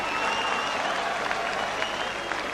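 Crowd at a professional boxing match applauding between rounds, a steady wash of clapping and murmur from a large arena audience, with faint commentary voices underneath.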